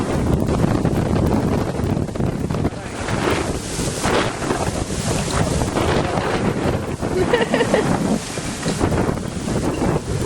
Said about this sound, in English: we just had a huge wind gust come through here